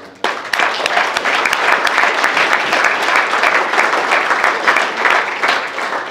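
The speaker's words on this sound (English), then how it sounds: "Montana AAU needs a round of applause" A banquet audience at a Montana AAU awards dinner breaks into applause, a dense, steady wash of many hands clapping that starts abruptly and holds loud and sustained throughout.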